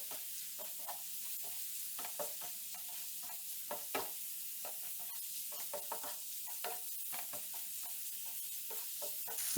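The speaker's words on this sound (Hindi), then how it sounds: "और इसको तकरीबन हम 2 मिनट के लिए फ्राई कर लेंगे।" Chicken fries in a pan with ginger and garlic powder, a continuous bright sizzle close by, broken by frequent short stirring scrapes and clicks, no talking.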